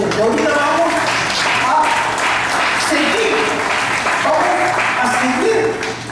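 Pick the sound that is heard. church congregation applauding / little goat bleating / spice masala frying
church congregation applauding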